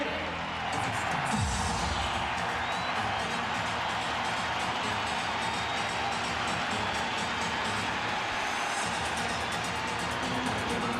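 A packed basketball arena crowd roars continuously before tip-off at a 2004 playoff game between the Timberwolves and Nuggets, a loud, dense wall of cheering with no break.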